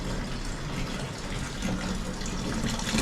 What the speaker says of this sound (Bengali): এই যে জলটা ভরে দিচ্ছি।